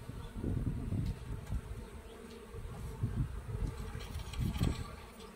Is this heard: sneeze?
no